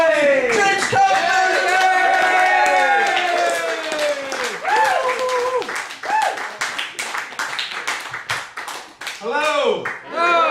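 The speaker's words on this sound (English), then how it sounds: "So please give him a headliner's round of applause for the wonderful James Cadden!" A comedy club audience claps and cheers loudly for a headlining comedian, a dense burst of applause that fades into scattered claps and whoops.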